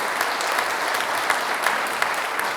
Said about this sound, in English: Let's give a big round of applause to all of our scholarship recipients and donors.